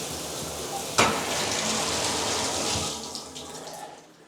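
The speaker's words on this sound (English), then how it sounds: "water spraying" A shower in a shower-tub combo sprays water in a steady rushing hiss, with a brief sharp knock near the start, before the spray fades and tapers off toward the end.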